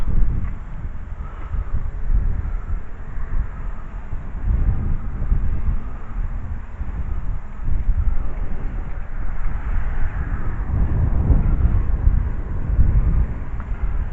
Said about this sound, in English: It's kinda windy today